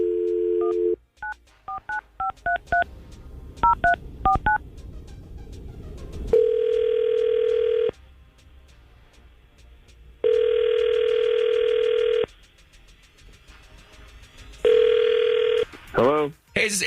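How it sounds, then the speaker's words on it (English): Telephone call placed during a morning radio show: a quick run of dial tones as the number is keyed, then several long ringback tones separated by pauses, clear and close. "we're going to try to call Aaron right now and see if we can get him on the phone"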